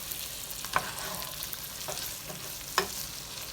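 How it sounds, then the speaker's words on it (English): Chopped vegetables for charro beans sauté in a pan with a soft, steady sizzle, broken by a couple of light clinks from stirring utensils, fairly quiet and without talk. "we're going to continue to let this saute down"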